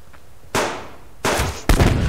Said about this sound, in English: I hit him with a grenade and he's still alive.